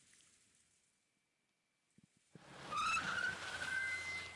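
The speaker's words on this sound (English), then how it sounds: "two lights screeching at me? That's a car." After a quiet start with a few soft taps, a car surges in loudly and its tires screech sharply, the squeal holding over a roaring engine, in the video game Umineko When They Cry Episode 8.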